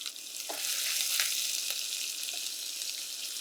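Chopped onion dropped into hot oil with cloves, cardamom, cinnamon, bay leaf, dried chilies and cumin, giving a bright steady sizzle with a few soft stirring clicks, no voices.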